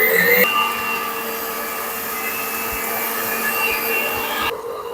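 Electric mixer beating powdered sugar with vanilla essence for a banana cake, a loud, steady motor whine that holds constant for about four seconds before cutting off near the end.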